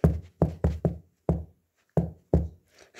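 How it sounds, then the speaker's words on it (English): Sharp knocks land on a door in irregular clusters, several quick raps followed by single spaced ones, each loud and close with a short hollow ring. "who's knocking on the door?"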